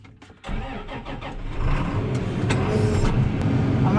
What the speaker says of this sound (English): I'm going to bring this tractor into the shed